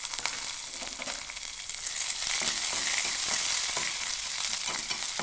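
A handful of green chillies fry in hot oil with a loud, steady, dense sizzle throughout, and faint stirring scrapes underneath.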